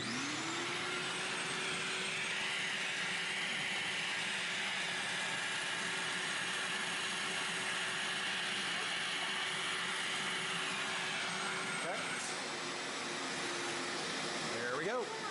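A vacuum cleaner whirs up and runs with a steady droning roar while hooked up during a fuse panel installation, its motor pitch shifting slightly near the end.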